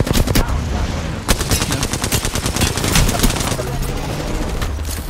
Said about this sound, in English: I'm so good with a sniper.